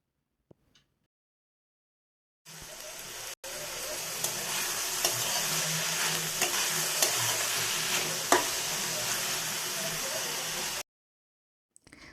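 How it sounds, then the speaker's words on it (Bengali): Bottle gourd noodles being stirred in a frying pan after salting, a soft steady sizzle with light scraping for several seconds, close but fairly quiet, starting and stopping abruptly. "লবণটা দেওয়ার পর আরেকটু ভালো করে আমি নাড়াচাড়া করে নেব"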